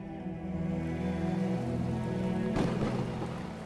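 Rain falls steadily at the Pashupatinath temple, a dense, even patter close by with a low rumble, and no voices.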